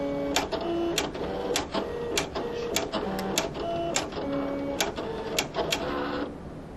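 A Silhouette Cameo cutting machine slices cardstock shapes, giving a steady motor whir broken by repeated short clicks and buzzy tonal steps as the carriage shifts. Loud and close, with no talking.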